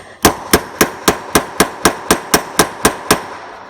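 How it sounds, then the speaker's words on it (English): Eleven sharp, evenly spaced hammer blows flatten metal on a shot plate for jewelry making, in a steady rhythm, loud and close, each with a short ringing decay. "hammer a few times so it's nice and flat"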